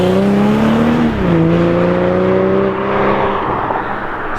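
BMW 240i accelerating up a mountain touge road, engine note rising loud and close, dipping briefly at a gear change, then climbing again before easing off.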